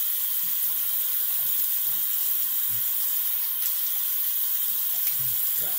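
Tap water runs steadily into a sink while rinsing after a shave, a continuous broadband hiss with faint splashing, close and alone throughout.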